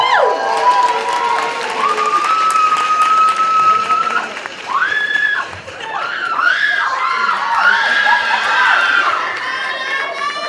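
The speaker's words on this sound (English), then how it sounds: "give a round of applause" A university student pageant crowd applauds and cheers during the modeling section, with loud sustained clapping, high whoops and shouted cheers rising and falling over about ten seconds, plus some speaking.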